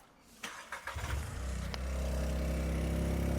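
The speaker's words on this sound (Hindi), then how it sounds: "एयर इनटेक, वो सुन लेते हैं" A tuned Skoda Slavia Stage 2 engine cranks with a few quick bursts, then catches and settles into a loud, steady intake drone that swells and holds close to the microphone.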